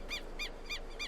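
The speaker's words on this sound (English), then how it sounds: "Yes, obnoxiously loud bird." A very loud bird calling out near a building site, four sharp, evenly spaced harsh calls repeating about every third of a second, standing well above a steady low background hum.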